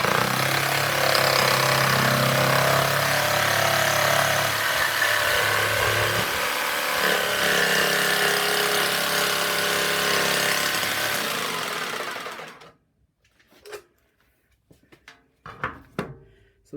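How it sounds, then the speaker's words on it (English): A jigsaw runs with a steady buzzing drone as its blade plunge-cuts into the center of a circle, holding for about twelve seconds before cutting off, then a few faint clicks and knocks in the quiet. "start the blade off and then lower it in and let it cut"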